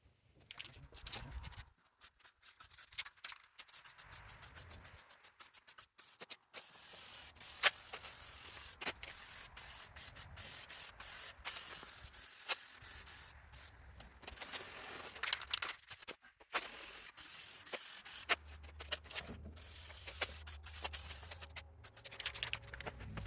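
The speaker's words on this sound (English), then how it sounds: "So let's try this rattle can, and hopefully it sticks, and hopefully it's the right color." A rattle can sprays paint onto an old truck bed in a series of short and longer hissing bursts, close and fairly quiet, with brief pauses and faint handling noises between them.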